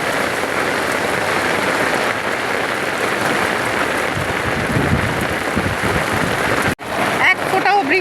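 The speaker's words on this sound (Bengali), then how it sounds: "এই জন্য আজকে এরকম বৃষ্টিতে পাইছি" Heavy rain falling outdoors near a wooden bridge, a loud, steady wash of downpour lasting throughout, broken briefly near the end by a sharp cut before the rain resumes; a voice is heard talking faintly under it.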